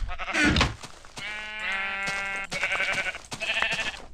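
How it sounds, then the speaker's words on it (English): Several drawn-out Minecraft sheep bleats, one overlapping another, over a low background, fairly close and clear. "Sheep here, they're just stuck in one hole"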